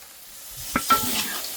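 Ground tomato going into curry masala frying in a pan, a soft hiss with two brief splashy bursts as it lands and is stirred.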